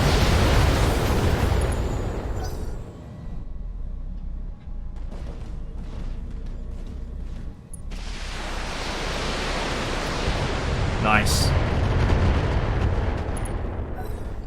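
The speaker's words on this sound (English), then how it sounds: "That's a lot of missiles." A heavy missile barrage in the mech combat game Battletech, with dense roaring blasts and rumbling explosions filling the whole stretch, a brief lull in the middle, then another loud wave of impacts.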